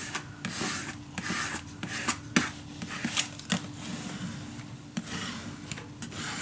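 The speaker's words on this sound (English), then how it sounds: "now you can burnish it down" Paper is burnished down onto chipboard with repeated dry rubbing strokes, quiet and close, in an uneven rhythm of short scraping passes and no speech.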